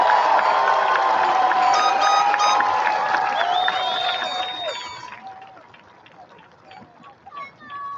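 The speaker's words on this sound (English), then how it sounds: "how about another big round of applause for our class of 2018?" A crowd at a high school graduation cheers for the class of 2018, loud whooping and shouting voices over applause, fading after about five seconds to scattered calls.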